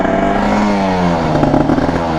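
A motorcycle engine revs steadily and holds near 6000 RPM, giving a loud, continuous drone that wavers slightly in pitch with a little mechanical clatter toward the end.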